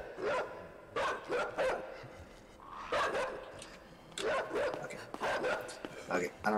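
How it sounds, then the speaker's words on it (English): Dog barking angrily in the video game Inside, a series of sharp bark bursts in clusters with short pauses, moderately loud against a low background. "Dog is mad."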